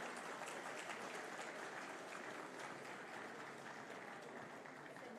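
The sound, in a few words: audience applause welcoming the chief guest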